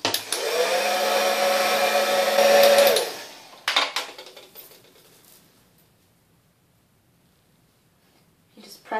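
A heat gun blows a loud, steady whirring hiss onto Worbla thermoplastic for about three seconds, then cuts off, followed by a short burst of handling noise and near silence.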